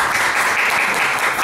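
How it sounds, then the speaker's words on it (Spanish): A brief, dense burst of applause from city council members at a final council session, loud and close, a continuous wash of clapping with no talk. "Un aplauso."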